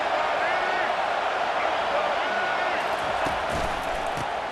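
Stadium crowd in EA Sports College Football 25 rising into a sustained roar, steady and dense throughout, with a commentator talking over it.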